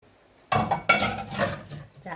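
Julienned carrot, onion, chili and bell pepper being mixed into seasoning for cucumber kimchi, a few clinks and scrapes of utensils against a bowl with soft stirring between them, close and moderately loud.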